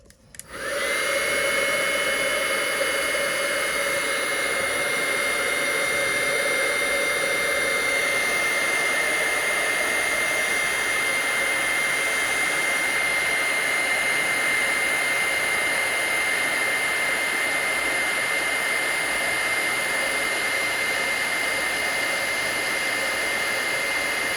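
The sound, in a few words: heat tool heating embossing powder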